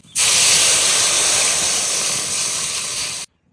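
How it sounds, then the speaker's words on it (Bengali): Water poured into a hot pan of fried chillies bursts into a loud, sustained steam hiss that starts abruptly and holds for about three seconds, then cuts off sharply. "লঙ্কা একটু ভেজে নিয়েছি, এবার জল দিয়ে দেবো"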